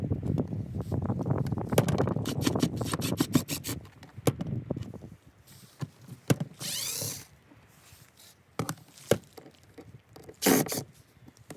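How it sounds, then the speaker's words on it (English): Scraping and prying with a wallpaper scraper on plastic fascia inside an abandoned caravan toilet: dense rubbing and scraping at first, then scattered sharp cracks, knocks and brief squeaky scrapes, close and unaccompanied by talk. "rather than trying to peel it off or gouge it out with a screwdriver, the fascia that is, use a wallpaper scraper"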